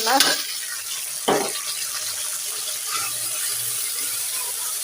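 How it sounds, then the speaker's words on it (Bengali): Spice paste of ginger, cumin and garlic frying in oil in a kadai with onions, a soft steady sizzle with two brief stirring scrapes near the start, no talking. "সব ধরনের মশলা অ্যাড করে দিই তো এখানে এই যে মশলাটা সুন্দর করে কষিয়ে নিচ্ছে"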